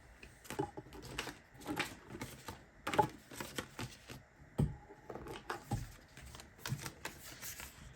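A deck of tarot cards is shuffled by hand in a series of soft, papery riffles and flutters. The bursts are quiet, close and irregular, and no one speaks.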